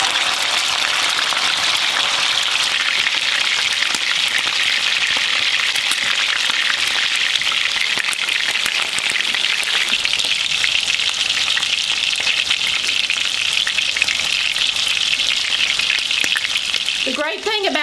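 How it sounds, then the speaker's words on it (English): Steak searing in a very hot frying pan with good oil and Himalayan salt, a loud, steady, dense sizzle that runs on continuously, close and unbroken. "And we're going to start our sear."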